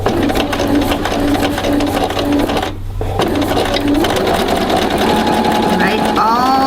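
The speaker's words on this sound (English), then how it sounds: "I'm going to put them into the machine and then stitch diagonally across" A sewing machine stitches diagonally across quilt binding in a steady, fast whirring run with a brief pause near the middle, close and loud, with a person talking over it.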